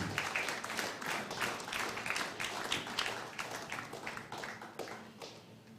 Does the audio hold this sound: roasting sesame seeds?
no